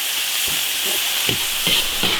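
Ginger, garlic, green Sichuan peppercorns and pickled chilies stir-fried in oil in an iron wok. A loud, steady sizzle runs throughout, broken by a few soft scrapes of stirring.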